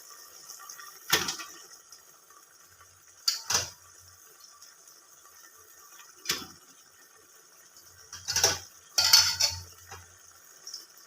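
Dry dal (lentils) tipped into a cooking pot in an Assamese village kitchen, heard as five short rattling, clattering bursts spaced several seconds apart, the last two close together, against a quiet background with no talking.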